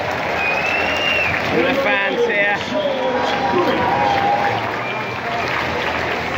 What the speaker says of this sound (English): The applause is for the All Blacks going in.